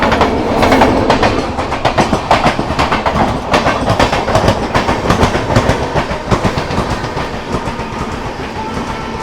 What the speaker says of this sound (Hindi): हमारी ट्रेन तो चल रही है बहुत धीमे से